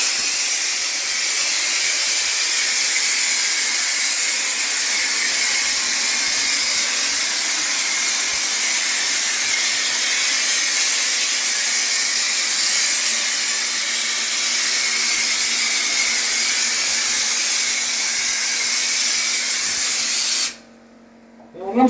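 Compressor-powered texture sprayer shooting orange peel drywall texture, a steady loud hiss of air and spray running continuously for about twenty seconds before cutting off briefly near the end.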